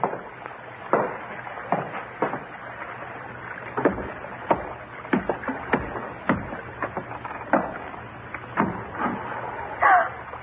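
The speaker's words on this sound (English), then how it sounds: "small boat just tied up alongside" Intermittent knocks and thuds of a small wooden boat bumping against a hull, with water sloshing and creaking between the irregular impacts.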